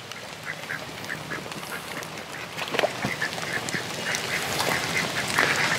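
Ducks quack repeatedly in a farmyard setting, a cluster of nasal calls overlapping in an irregular rhythm, moderately near, over a soft outdoor background that grows slightly louder.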